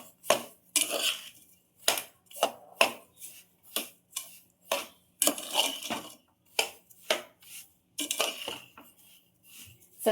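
Rava roasting with sugar and grated coconut in a pan, stirred by hand: a steady run of sharp scraping and clinking strokes of a spoon against the pan, close and fairly loud, in an uneven rhythm with no talk.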